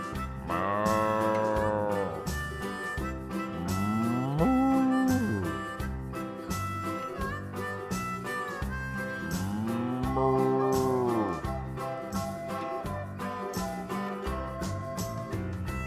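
Cows moo on a farm in three long, drawn-out, rising and falling lowing calls over a steady background bed, with no talking.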